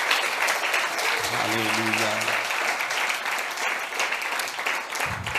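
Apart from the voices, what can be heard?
congregation applause for God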